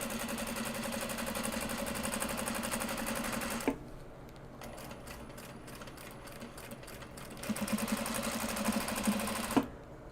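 A sewing machine runs a top stitch at 100% speed, a fast steady whir that drops into slower clicking stitches midway and then speeds back up before stopping.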